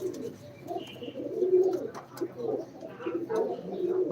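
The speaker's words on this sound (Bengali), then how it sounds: "এ হলো আমার কবুতর" Pigeons in a loft shed give low, throaty coos that repeat in overlapping rolls, close and fairly clear, with faint other sounds between the calls.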